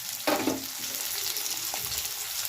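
Garlic fries in a pan, a soft, even sizzle with a couple of brief stirring scrapes near the start, heard close with no voices.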